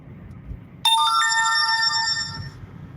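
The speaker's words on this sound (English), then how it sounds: "Sorry, I didn't turn off all of my notifications." A phone notification tone rings out suddenly from a quiet background in a vehicle driving a back road, a bright chiming ringtone that holds for about two seconds and then stops.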